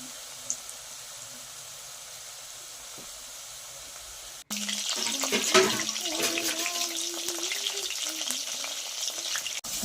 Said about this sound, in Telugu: ఇంత కలిపిన మష్రూమ్ పకోడీ అండి. ఇది ఆయిల్లోనే వేస్తున్నాం.